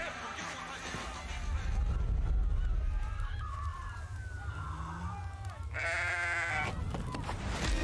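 Goats bleat in the Goat Simulator 2 video game trailer, a few short wavering calls over a booming low music bed, with a quick bright sound burst near the end.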